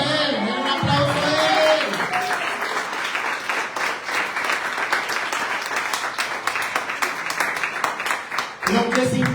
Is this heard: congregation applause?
yes